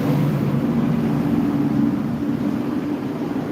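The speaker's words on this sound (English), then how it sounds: "Big old fire engine going by, so it's going to be loud." A big fire engine passes close by, a loud, steady low rumble of engine and road noise that holds for several seconds, then eases slightly toward the end.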